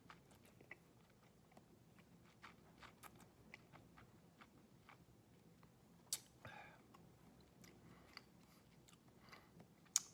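Quiet, close-up mouth sounds as someone chews a sip of Stauning Port Smoke 2015 port-cask whisky, with soft irregular wet clicks and smacks over faint room noise and a few sharper ticks near the end.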